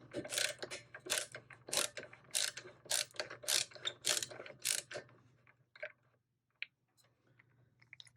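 A retaining ring on a Tektronix 500 series oscilloscope is being loosened around the CRT, giving a rapid run of ratchety scraping clicks close up, then a few sparse ticks as it eases free.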